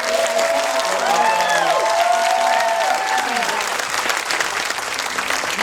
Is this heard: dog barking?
no